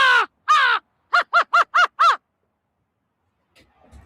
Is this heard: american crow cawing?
yes